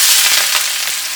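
Onion, ginger and green chili fry in coconut oil with a steady, close sizzling hiss that holds constant throughout, with no voices.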